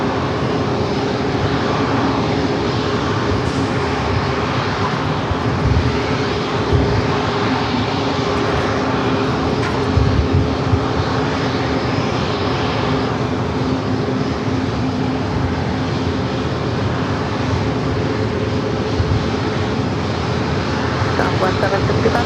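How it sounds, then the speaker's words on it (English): A Boeing 787-9 Dreamliner, a heavy jet, departs San Diego airport on its takeoff run, giving a loud, steady, broadband engine roar that holds for the whole stretch without a break. "Flight 640 will be heading back to Amsterdam in the 787-9 Dreamliner. Next heavy departure here in San Diego."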